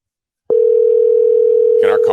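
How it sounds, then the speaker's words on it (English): A telephone sounds a single steady, loud ringback tone on an outgoing call, starting abruptly and holding without a break, with a voice beginning to speak over it near the end. "can the people on the stream hear the phone ringing right now?"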